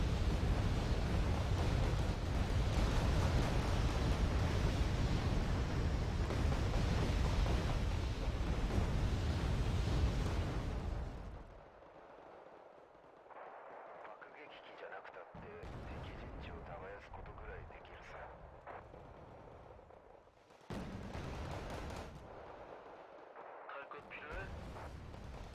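Heavy artillery and gunfire in the Wargame Red Dragon video game: a loud, continuous rumble of barrages for about eleven seconds, then it drops to quieter scattered shots and distant booms with one renewed burst near the end.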